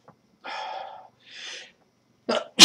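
A few short breathy bursts, like sharp inhales and a sneeze, close and isolated in otherwise quiet surroundings, ending with a loud forceful burst.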